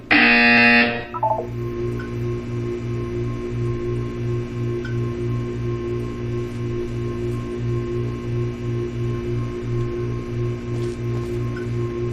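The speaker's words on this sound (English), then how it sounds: "You will hear a buzzer." A game buzzer from Portal 2 blares loudly for about a second, then a soft regular pulsing tone keeps going under a steady background hum.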